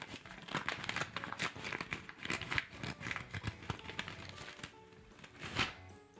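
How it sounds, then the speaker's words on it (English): A plain paper envelope crinkles and tears as it is opened, with a dense run of close, crisp rustles and rips lasting several seconds and no talk. "This is not a fancy envelope by any means, but let's get the sound, the crinkling."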